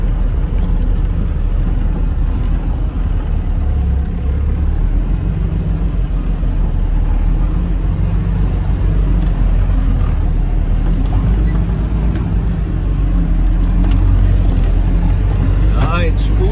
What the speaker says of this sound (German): jetzt spult er, ich merke es, er dreht durch